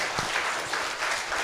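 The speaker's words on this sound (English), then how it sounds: "a round of applause for Raf and Maxam" Audience applause for speakers on stage at HiveFest 2024 in Split, Croatia: a steady wash of many hands clapping, fairly close and sustained throughout.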